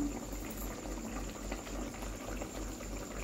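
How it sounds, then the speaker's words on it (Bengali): Water at a rolling boil in a covered pan for egg curry, a soft, continuous bubbling and simmering heard close and fairly quiet, with no talk over it. "ফুটে গেছে।"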